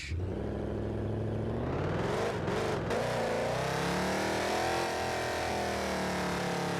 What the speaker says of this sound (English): the truck is louder than the supercharger